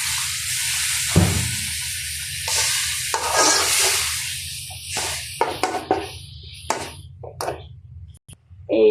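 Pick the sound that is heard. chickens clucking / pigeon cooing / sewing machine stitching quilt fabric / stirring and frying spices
stirring and frying spices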